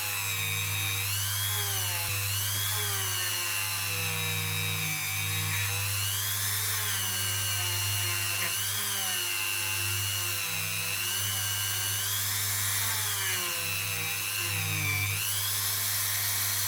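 A Dremel rotary tool whines steadily throughout while cleaning fire scale off a 50p coin being made into a ring, its pitch rising and dipping slightly as pressure on the metal changes, close and continuous without talk.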